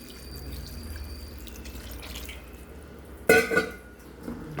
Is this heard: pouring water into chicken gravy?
yes